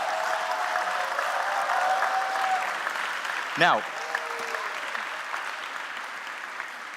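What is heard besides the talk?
audience applause for the event team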